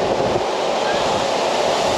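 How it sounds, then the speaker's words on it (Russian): Stormy sea waves crash on the Crimean coast in a steady, loud roar of surf and spray, with constant wind buffeting the microphone. "Вот это море сегодня бушует нереально."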